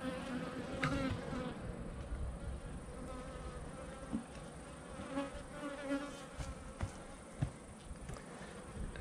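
Honeybees buzz steadily nearby while hives are split, a dense droning hum with occasional louder passes and light knocks.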